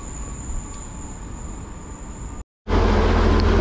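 A Great Western Railway Class 800 train runs through Bath Spa station on the Great Western Main Line, a loud steady rumble with a high whine, cut by a brief dropout before a heavier roar resumes.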